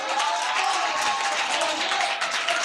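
A church congregation claps and cheers in acclaim of Jesus Christ, a steady dense wash of applause and voices that stays even and close for a few seconds.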